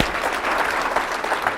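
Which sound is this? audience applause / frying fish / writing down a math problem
audience applause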